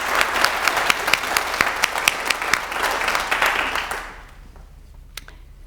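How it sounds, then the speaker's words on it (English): Audience applause for the graduating radiography class of 2023 at a pinning ceremony: dense, steady clapping from a crowd for about four seconds, then fading quickly to near silence with a single stray clap. "How about another round of applause for the graduating class of"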